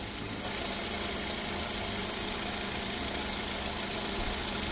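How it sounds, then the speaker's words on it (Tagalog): A 2017 Hyundai Accent GL engine idling with a steady, even mechanical drone and fine ticking texture, loud and close, running smoothly with no misfires and no voices. "I'm sure rinig nyo naman po kung gaano katining umandar. Walang palya."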